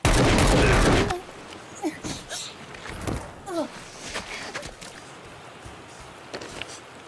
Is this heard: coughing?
no